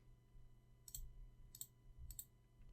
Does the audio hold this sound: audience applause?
no